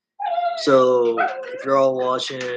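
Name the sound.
dog barking in the background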